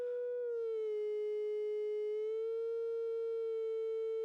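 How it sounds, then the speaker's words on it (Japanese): A Computone Lyricon wind synthesizer self-oscillates with the sustain knob raised, droning a steady synthesized tone continuously without being blown, rich in harmonics and slightly wavering in pitch, sounding on its own without any talking. "サステインつまみを上げるとこうやって発信します"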